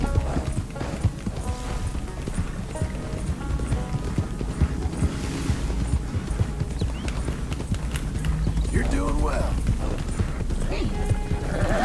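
Horse hooves clip-clop steadily through Red Dead Redemption II at a walking pace, with an occasional whinny, as someone talks over them throughout.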